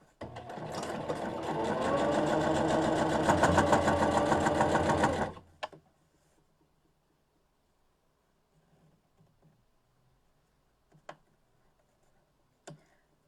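A sewing machine stitches a fabric mask with a steady, rapid mechanical whir for about five seconds, then stops, leaving a few faint clicks and ticks in a quiet room.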